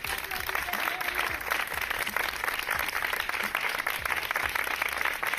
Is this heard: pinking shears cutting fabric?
no